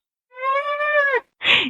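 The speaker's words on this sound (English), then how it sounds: "So that's my parents' cat right now" A pet cat being pet-sat at a family home lets out one long, loud, drawn-out meow, followed after a short pause by a brief breathy huff, with nothing else around it.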